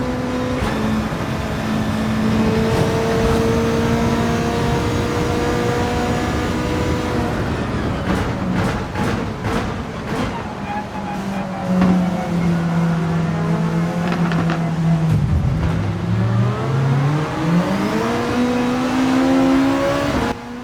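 Race cars lapping Spa-Francorchamps in Gran Turismo 7, a loud sustained engine drone shifting pitch through gears, with one car rising and falling in revs as it passes close, heard alone without talk.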